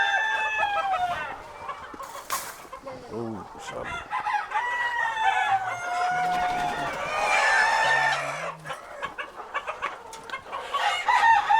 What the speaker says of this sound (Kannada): ಎಷ್ಟು ಕೋಳಿಗಳೈತೆ ನೋಡಿ ಕಂಪ್ಲೀಟಾಗಿ